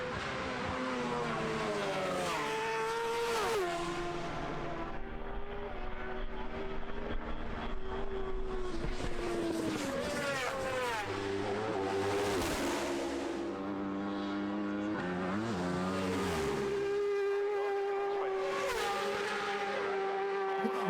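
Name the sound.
racing motorcycles at the Isle of Man TT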